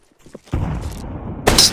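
Grenade in the video game Counter-Strike 2: a loud, close thudding burst that rumbles on, then a bright shattering crack near the end, all heard without talk.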